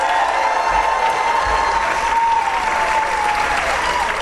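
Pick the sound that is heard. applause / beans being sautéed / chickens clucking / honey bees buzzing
applause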